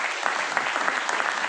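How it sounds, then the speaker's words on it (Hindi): An audience at a business motivational seminar breaks into loud, vigorous clapping: a dense burst of many hands close by, continuous through the short stretch. "ताली जोरदार बजा लीजिए।"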